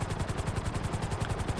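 Helicopter flying in GTA 5 during a flight school heist setup, rotor blades chopping in a fast, steady rhythmic pulse, loud and close, with a constant engine whine beneath, no voices.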